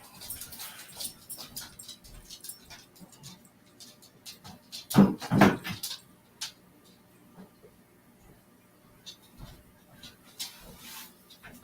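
A puppy moves about indoors, making light ticking and scratching sounds with a couple of louder thumps partway through, close by and with no voices.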